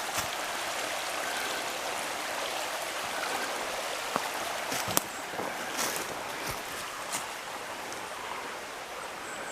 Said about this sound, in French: Alors il y a plein de petits ruisseaux.